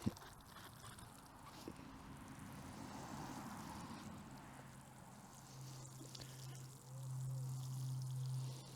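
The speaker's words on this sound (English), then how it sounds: "And then we'll water this in." Freshly sown garden seeds are watered in, giving a soft, steady hiss of water falling onto soil over a low background hum, fairly quiet throughout.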